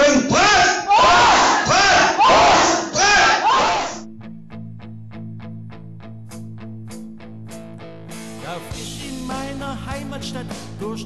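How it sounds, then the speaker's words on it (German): A crowd shouts a triple "Brat!" battle cry, three loud, rhythmic group bursts that give way to a plucked, bouncy comic song backing with singing voices. "wir begrüßen euch mit einem dreifachen Brat!"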